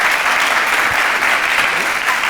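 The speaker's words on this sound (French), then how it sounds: "Avec vos applaudissements, bien sûr." A TV studio audience on a French variety show breaks into loud, sustained applause, a thick, even roar of clapping with a faint voice briefly underneath.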